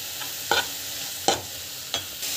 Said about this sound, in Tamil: பெருங்காயம் ஆட் பண்ணிட்டு பிறகு நல்லா வந்து வதக்கிட்டுக்கோங்க